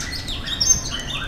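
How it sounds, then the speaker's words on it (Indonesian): Morning birdsong: several small birds chirp and tweet in short repeated calls, moderately near over a soft outdoor background, with no talking. "Dari pagi nih burung udah berkicau."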